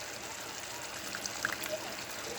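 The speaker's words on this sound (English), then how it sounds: "We're gonna go ahead and add some of our water," Water poured into a pan of jackfruit curry, a steady soft trickling stream running throughout at moderate level with no talk.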